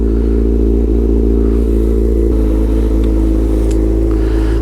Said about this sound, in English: So I always warm up the bike.